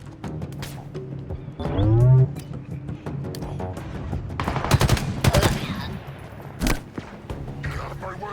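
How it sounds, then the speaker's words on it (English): Rapid gunfire in the Halo Infinite campaign, bursts of automatic shots mixed with game effects and a low rumble, under a voice speaking over the action. "Okay, we're getting shot."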